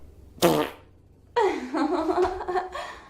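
Recorded flatulence played back from a video: a short sharp fart burst, a pause, then a long drawn-out rumbling fart with a sliding, wavering pitch, loud and close with no talk over it.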